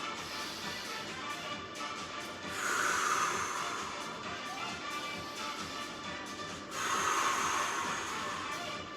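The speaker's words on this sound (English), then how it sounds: "3 recovery breaths." Three heavy recovery breaths after a bodyweight workout set, each a long, close, breathy exhale with quiet pauses between them.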